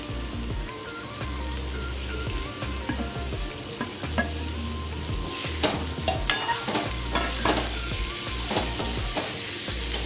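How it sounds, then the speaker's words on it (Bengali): Jackfruit seeds fry in a pan for prawn curry, with a continuous crackling sizzle and irregular scraping stirs that grow busier toward the end, close and clear. "এবার আমি জ্যাকফ্রুট সিডসটা দিয়ে দিচ্ছি।"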